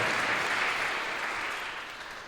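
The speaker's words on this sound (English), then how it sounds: "Give yourselves a round of applause." A concert audience inside First Plymouth Church in Lincoln breaks into steady, dense applause that fills the room evenly, easing off slightly toward the end with no voices over it.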